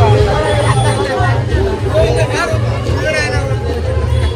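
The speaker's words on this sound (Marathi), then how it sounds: "लोक बघा दमभर आहेत भरलेली" Dense crowd hubbub fills the Versova Koli festival in Mumbai, many voices chattering and mingling close by at a loud, constant level.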